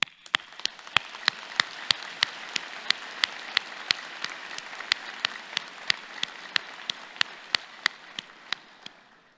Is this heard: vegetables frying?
no